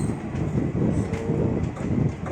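A low, steady rumble fills a moving train carriage, with faint rattles and clatter over the continuous drone.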